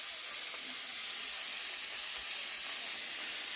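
Shrimp frying in a pan on a home gas stove, a steady broad hiss and sizzle of hot oil running evenly throughout, close and unbroken with no talking.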